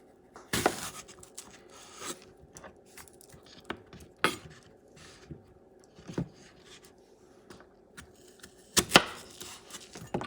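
A knife cuts a small plantain in half on a board. Sharp close chops and knocks come at irregular intervals, with faint rustling between them.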